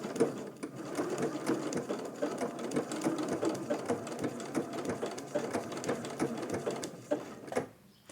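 A sewing machine stitching raw edge applique runs steadily and close up, its rapid needle rhythm continuous with brief pauses near the end.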